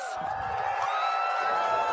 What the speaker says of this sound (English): The loudest the crowd's been all fucking night.